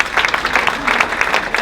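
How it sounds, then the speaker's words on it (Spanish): Church congregation applauding, loud close clapping from many hands with a rhythmic pulse to it, brief and steady. "Denle un aplauso al Señor por eso."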